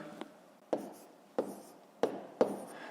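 A pen writes numbers on paper during a fifth-grade maths exercise, heard as four or five short close scratchy strokes in an uneven rhythm, quiet and alone.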